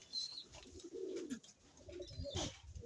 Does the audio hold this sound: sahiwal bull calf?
no